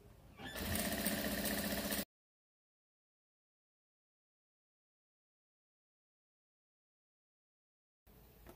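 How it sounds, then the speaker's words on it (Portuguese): A sewing machine runs in a short steady burst of rapid stitching as patchwork fabric triangles are sewn together, loud and close, then stops into silence. "E vamos passar um pezinho de máquina."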